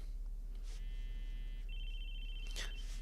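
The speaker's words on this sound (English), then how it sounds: "Oh my god, his phone's ringing in class." A phone ringtone sounds in a classroom scene from the video game Chaos;Head Noah, a thin electronic tone that steps up in pitch partway through, fairly faint over steady low hum with a brief noisy burst near the end.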